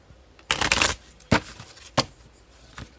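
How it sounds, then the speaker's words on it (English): A numerology card deck being shuffled by hand, with one long riffling burst followed by two short sharp card snaps and a faint final flutter, close and without talk. "Oh, I didn't even shuffle these."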